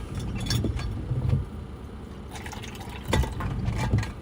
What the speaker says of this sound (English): pour a little warm coffee.